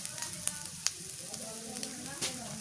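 Small shrimp and potatoes fry in a pan, a steady low sizzle with occasional sharp pops and crackles, close and fairly quiet, no talking over it.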